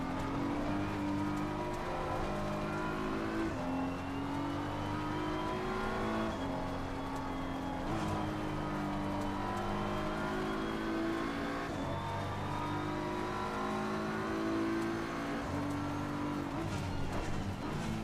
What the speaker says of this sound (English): Faster car coming up behind, watch out.